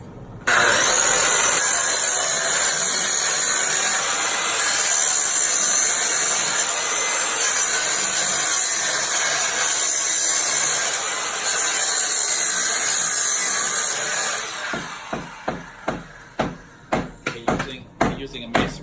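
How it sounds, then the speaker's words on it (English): A regular circular saw fitted with a masonry blade grinds steadily through a concrete foundation from a house built around 1969, a loud continuous whine that gives way to short, choppy bursts near the end. "Using a masonry bit on a regular circular saw."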